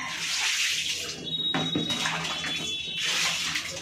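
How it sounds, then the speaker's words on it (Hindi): Clean water splashes and pours over a cat being bathed in a tub, a steady hissing stream broken by a brief pause and some sloshing, close and moderately loud. "ये साफ पानी डाल रहे हैं काली को।"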